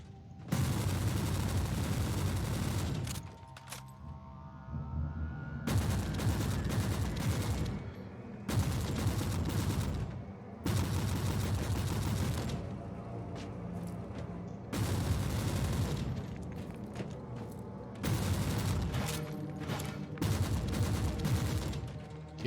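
Rapid submachine gun and laser pistol fire from the video game Warhammer 40k Martyr comes in loud, dense bursts separated by short pauses, with no talking.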